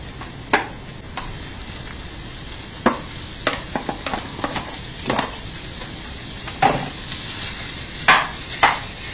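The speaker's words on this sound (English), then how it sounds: "we're going to throw the meat in there" Ground meat sizzles in a pan with softened onions for Finnish makaronilaatikko, a steady frying hiss broken by scattered scrapes and stirring knocks, close and fairly loud with no voices.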